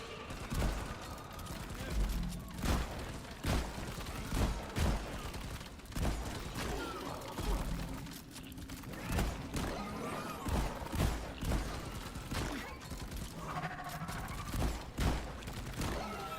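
Repeated shotgun blasts ring out in Deep Rock Galactic, sharp booming shots spaced irregularly amid other game noise and a talking voice.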